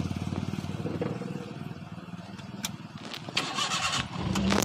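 A car engine starts on an uphill slope during a driving lesson, a steady close rumble that cranks and catches into a louder idle toward the end, with no talking over it.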